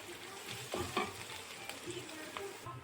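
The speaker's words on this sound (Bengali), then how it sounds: "পেঁয়াজটা ভাজা হয়ে গেছে।" Chopped onions with whole cumin sizzle in hot oil in a pan, stirred with a few scraping, clattering strokes over a continuous, fairly quiet fry; no one talks.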